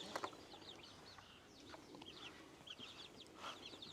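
A bantam hen and her small chicks cluck and cheep faintly in a farmyard, with soft irregular peeps and chirps spread throughout.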